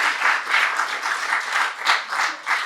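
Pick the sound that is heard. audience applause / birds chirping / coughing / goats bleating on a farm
audience applause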